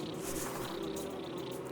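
Wasps buzzing in the video game Metroid Prime: a steady, dense insect drone fills the short stretch at an even level, with no voices.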